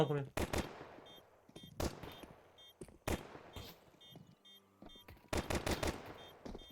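Rapid bursts of gunfire from a competitive first-person shooter video game match, several loud volleys and single shots in quick succession with players talking over them.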